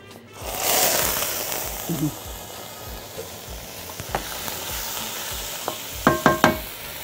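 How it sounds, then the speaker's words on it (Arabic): Chicken dropped into hot oil in a pan, a burst of sizzling that settles into a steady fry, with several sharp spoon taps near the end and a voice talking. "هناخد برضو معلقتين زيت هنزل هنا كده الفراخ"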